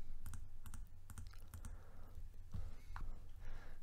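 Mouse clicks at a computer desk during a digital art session: several sharp, quick clicks in a short burst, then a few more scattered taps, close and fairly quiet over a low steady hum.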